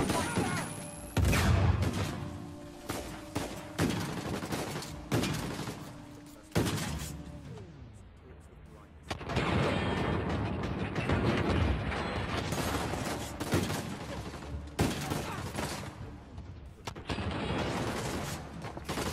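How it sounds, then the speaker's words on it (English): Grenade explosions and bursts of gunfire in the video game The Lost Legacy, with loud, repeated blasts and crashing impacts across a busy firefight, and someone talking over the action. "Grenade spam."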